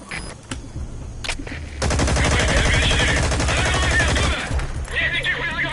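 Unsuppressed gunfire in Metal Gear Solid V: The Phantom Pain: a few scattered shots, then a long, loud, rapid automatic burst of machine gun fire, then more shooting, with a voice partly underneath.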